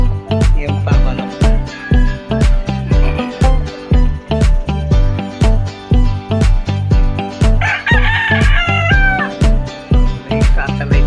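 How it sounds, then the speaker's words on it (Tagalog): Roosters crow loudly with a rising, drawn-out call at a San Isidro feast, other chickens calling too, over a steady rhythmic thumping backdrop that runs throughout. "Daming manok."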